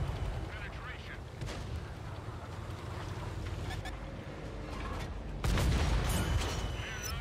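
A tank cannon firing in the console game World of Tanks, a heavy booming blast arriving late in the clip over a continuous low engine rumble, loud and close.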